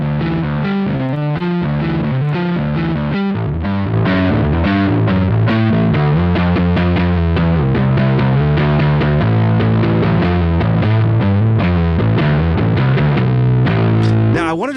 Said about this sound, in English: Let's hear like bass with a little distortion on it and how that works.